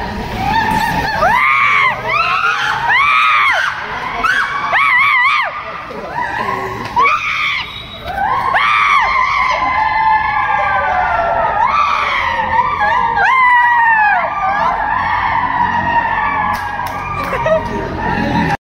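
A crowd of walkers on a pilgrimage march shouts and screams in loud, sustained overlapping cries, rising and falling in waves for the whole stretch, close and raucous.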